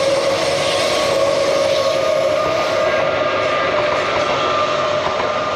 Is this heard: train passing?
yes